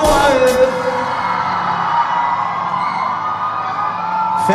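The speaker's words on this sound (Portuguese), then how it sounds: "A mulher que tá solteira, dá um gritão aí." At a funk concert in São Gonçalo, a crowd of women lets out a sustained loud scream and whoop, a dense wall of voices under ringing music tones.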